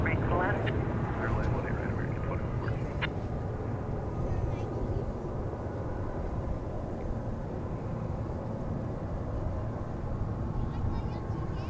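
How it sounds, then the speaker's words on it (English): An American Airlines jet on Flight 2673 from Palm Springs touches down at DFW Airport, a steady broad roar of engines and rushing air throughout, moderately distant, with a person talking over it. "there you saw the touchdown of American Flight 2673 from Palm Springs"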